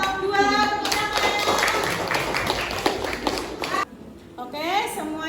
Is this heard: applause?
yes